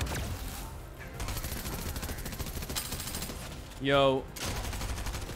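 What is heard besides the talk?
machine pistol gunfire in a video game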